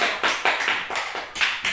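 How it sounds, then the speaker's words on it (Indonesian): A class claps for a student in a Catholic religious education lesson, a few close, rhythmic group claps landing in a regular beat, sharp and loud with no talk over them. "tepuk tangan untuk Konca dulu"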